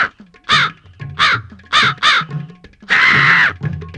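A crow caws loudly and close by in a series of harsh calls, four short caws in quick succession followed by one longer, drawn-out caw, with no talking.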